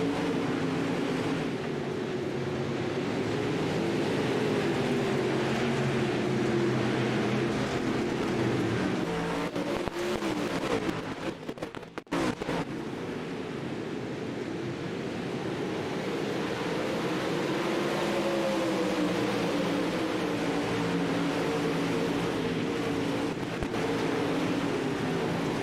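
Pro dirt late model race cars from iRacing run laps at Williams Grove Speedway, a dense, continuous engine drone with shifting pitch as cars pass, steady and loud for the whole stretch.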